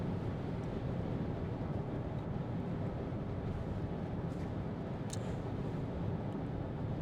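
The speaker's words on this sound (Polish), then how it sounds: "Słyszę wyraźnie powietrze opływające samochód" Steady broadband rush of wind streaming around a moving Citroen E-C4X electric car, constant and fairly loud, with faint road rumble underneath and no voices.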